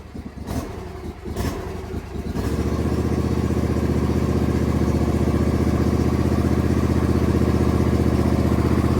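A John Deere machine's engine cranks and catches after a couple of sputtering attempts, then settles into a loud, steady running drone close to the mic for the rest of the clip.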